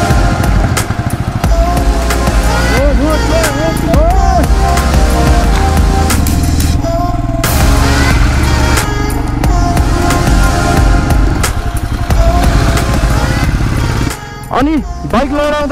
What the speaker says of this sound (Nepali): यहाँ मदनले बाइक चलाइरहेछ